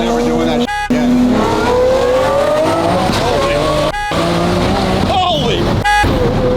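A twin-turbo V12 Lamborghini SV tuned by Gintani accelerating hard, its loud engine note rising through quick gear shifts with brief breaks at each change, heard from inside the car with people talking over it.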